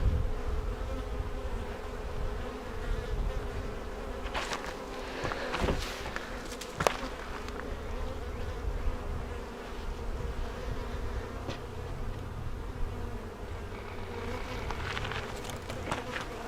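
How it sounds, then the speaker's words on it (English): Honey bees swarming around a hive entrance, a continuous close buzz that rises and falls as individual insects pass the microphone, with a few faint knocks and rustles in between. "I think we've had enough bee action for today"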